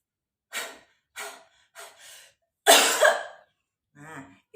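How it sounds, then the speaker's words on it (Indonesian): A breathing exercise: a series of breathy exhalations, several sharp huffs separated by pauses, then a louder forceful cough, close and clear, with a softer breath at the end. "seluruh proses tadi kita gabungkan dari ambil napas, huffing, kemudian coughing"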